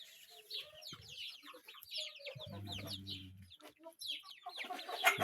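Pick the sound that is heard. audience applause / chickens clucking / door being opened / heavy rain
chickens clucking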